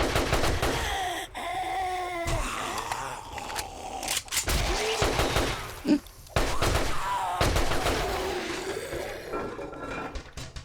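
Repeated gunshots from a firearm in 7 Days to Die, Rebirth Mod, fired as a string of sharp broadband cracks across the whole stretch, loud and close, with game sounds and groans between them.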